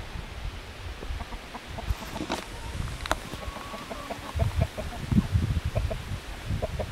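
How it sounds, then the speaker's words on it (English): Newly arrived hens clucking softly around outdoors, with scattered low murmurs and occasional brief calls over outdoor background noise. "we just came out to check on our new hens"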